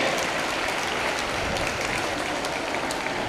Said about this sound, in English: Children, please give a big round of applause.